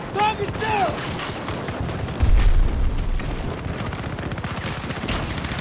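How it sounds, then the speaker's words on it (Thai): Bursts of gunfire and a heavy boom from the Battlefield video game, with rapid shots crackling through the scene over a steady background of combat noise. "ยิงมาจากข้างล่าง"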